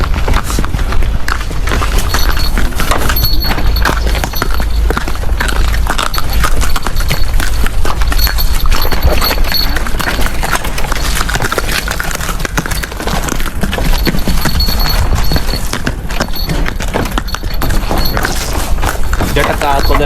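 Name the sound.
horse-drawn jataka cart, hooves clip-clopping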